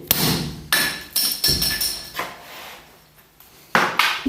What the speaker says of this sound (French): je vais mettre un coup sec et le croisillon est cassé